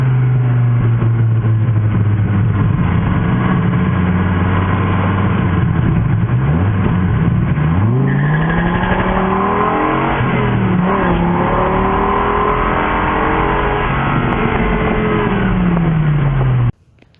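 A Dodge Viper sports car with 120,000 miles, its engine revving loudly and accelerating close by, the pitch climbing and falling through several pulls before cutting off abruptly at the end.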